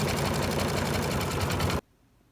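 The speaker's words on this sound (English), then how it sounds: "we have to flip it on an embroidery machine and sew out the left side" Embroidery machine stitching out a fabric bootie in the hoop, a loud rapid mechanical chatter with an even rhythm that stops abruptly near the end, leaving quiet room tone.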